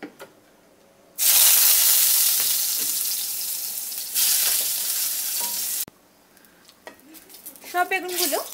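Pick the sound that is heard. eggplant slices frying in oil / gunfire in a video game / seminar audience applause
eggplant slices frying in oil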